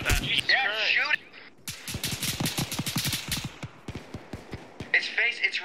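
Rapid bursts of gunfire in an Arma 3 special forces co-op battle crackle near and loud in a dense, irregular volley over several seconds, with shouted talk from players before and after the shooting.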